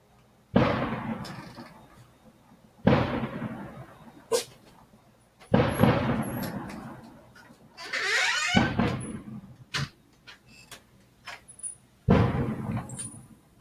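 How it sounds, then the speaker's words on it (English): Loud fireworks go off in several separate sharp bursts, each booming blast trailing into a crackling decay, with a few fainter pops and squeals in between, heard from fairly close by. "she has really loud fireworks going off"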